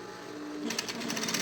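A sewing machine runs a short safety seam along the side of a synthetic-leather school pencil case. After a quiet moment, a quick burst of rapid, even stitching chatter rises nearby, alone.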